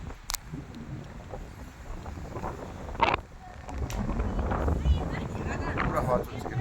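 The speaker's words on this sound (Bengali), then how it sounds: "হয়তো আপনারা ভিডিওতে হাওয়ার আওয়াজও পাচ্ছেন, বাতাসের পুরো হাওয়া চলছে এখানে" Strong wind blowing through trees on a hillside near Kalimpong, a steady rushing roar that swells louder toward the end, with low gusty rumble and occasional knocks.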